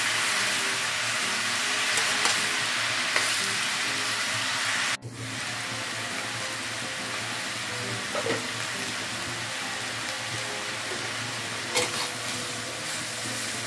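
Vegetables wilting in a hot pan for a village-style dish, a constant sizzle and hiss with occasional scraping stirs and clinks, close and steady, one sharp knock midway.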